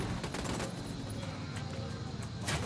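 Dense, rapid bursts of automatic gunfire from the video game Ghost Recon Wildlands form a continuous close-up barrage with no pauses.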